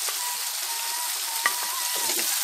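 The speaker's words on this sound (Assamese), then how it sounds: "খেজুৰ আৰু বিলাহীখিনি ভালদৰে মিক্স কৰি দিছো" Chopped tomatoes and dates frying in a pan for chutney, a continuous loud sizzle with a few soft scrapes of a spoon stirring, no talk.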